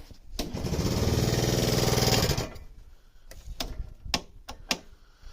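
The starter of a small secondhand go-kart engine cranks loudly for about two seconds without firing, followed by a few sharp clicks from the starter solenoid, close up.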